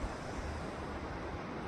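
Distant waterfalls near Explorer Glacier, Alaska, give a steady broadband roar blended with gusting wind, a continuous wash of noise with no distinct events.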